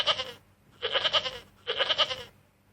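Goats bleating in three separate calls, each a wavering, nasal cry lasting about half a second with short pauses between, fairly close and clear with no talking.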